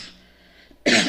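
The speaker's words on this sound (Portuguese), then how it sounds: "eu tenho uma tosse alérgica que é difícil de sarar" A single sharp allergic cough bursts out near the end after a faint quiet stretch, close and loud.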